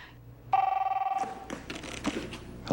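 A telephone bell rings in a TV commercial, a single burst of rapid trilling rings, followed by softer rustling and faint movement.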